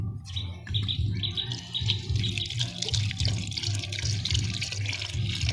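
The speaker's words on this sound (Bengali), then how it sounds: "এই জল এমনি করে দিতে হবে না, দাঁড়া একটা জল দিয়ে দাও।" Water is poured steadily over plants in a rooftop garden, making continuous splashing and trickling with faint birdsong in the background.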